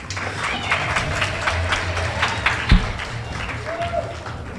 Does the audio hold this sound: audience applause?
yes